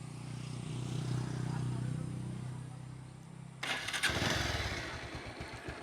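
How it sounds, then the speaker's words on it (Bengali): A 2023 Bajaj Pulsar Double Disc motorcycle idles with a low, even engine rumble. Partway through it bursts into a louder, rougher run of revs, heard up close. "আমি আপনাদেরকে ইঞ্জিনের সাউন্ডটা শোনানোর চেষ্টা করি।"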